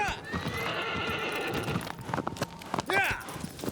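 A horse in the video game Shadow of the Colossus gallops with rapid clip-clop hoofbeats, then gives a loud whinny near the end, with game music and someone talking over it.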